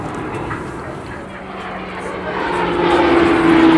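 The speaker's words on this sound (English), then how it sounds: "Garrett TPE turboprop engine fitted to the RF Tucano by Shorts in Belfast" A Shorts Tucano turboprop with a Garrett TPE engine flies past at an airshow, a steady propeller drone that swells louder toward the end, with a thin rising whine, heard at a distance over outdoor crowd noise.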